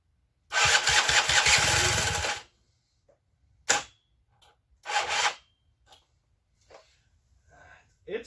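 A 1987 Honda Spree scooter engine firing on a starter charger, one rough two-second burst of sputtering combustion and then silence, followed by a few short scattered clicks and rattles.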